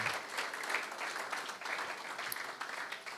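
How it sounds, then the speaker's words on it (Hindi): An audience at a youth church seminar claps steadily in praise, a faint, continuous patter heard from a distance with no talk over it. "तालियां बजाकर प्रभु को महिमा दे।"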